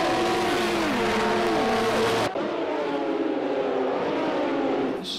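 Turbocharged Porsche race car in a racing video game, its engine roaring loud and steady as it accelerates through rising and falling gear shifts, close and continuous with no talk.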